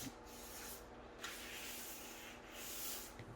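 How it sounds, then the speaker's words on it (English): Fine grit sanding sponge worked lightly over a painted furniture vanity surface, giving a soft, steady rubbing hiss with gentle back-and-forth swells across a few strokes. "I came out with my fine grit sanding sponge and lightly went over the surface"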